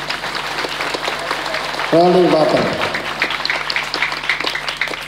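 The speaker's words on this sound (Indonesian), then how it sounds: "Tepuk tangan." An assembled congregation at a religious gathering applauds; loud, steady clapping runs throughout while someone speaks briefly over it near the middle.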